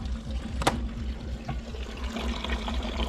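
Rusty water pours out of a rusted gas tank being cleaned, a steady close trickle and splash over a low background hum, with no voices.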